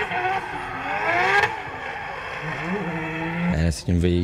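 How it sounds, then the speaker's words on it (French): A pro-category drift car running on narrower-than-usual tires at a drift event in France, its engine revving and straining loudly under continuous commentary. "c'est un véhicule réglé pour la catégorie pro qui est en train d'essayer de monter des pneumatiques bien plus étroits que prévu"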